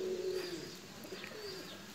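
Soft, low cooing from a Pakistani flying pigeon, a brief murmuring call early on over quiet background chatter of other birds.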